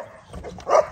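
A puppy under a year old gives a single short, fairly faint bark or yelp after some soft rustling, with no voices.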